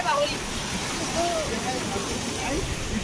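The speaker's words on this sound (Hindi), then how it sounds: "तो काफी खतरनाक वाटरफॉल है।" A dangerous waterfall with a strong flow roars as a dense, continuous rush of water, loud and close, with voices talking over it.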